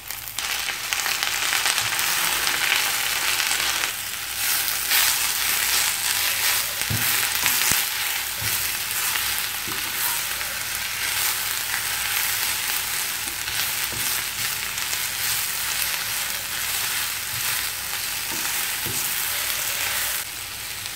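Mint leaves sauté in a hot pan for mint chutney, giving a loud, continuous frying hiss broken now and then by soft stirring scrapes and taps.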